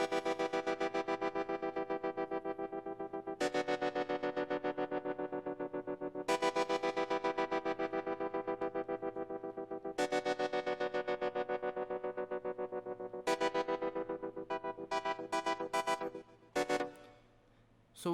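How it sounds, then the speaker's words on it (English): A bright Rhodes electric piano patch with filter automation in an FL Studio hip hop beat. Full, sustained chords are struck about every three seconds, and the final bars break into shorter stabs. It is loud and up close with no speech. "this is a Rhodes patch with a filter automation"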